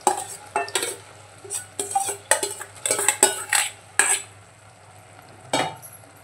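Boiled sprouted moth beans are stirred into masala frying in oil in a pan, giving loud repeated spoon scrapes and clinks against the metal over a low sizzle.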